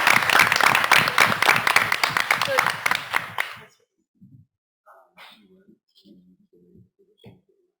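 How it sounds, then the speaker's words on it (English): A school board meeting audience claps for a retiring staff member, a dense burst of applause that runs for a few seconds, then cuts off into near silence with a few faint scattered sounds. "But we'll give her a round of applause."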